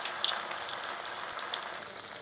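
Poha vada, a crisp flattened-rice fritter, frying in hot oil gives off a faint, steady sizzle with a few small pops, heard alone and from close by.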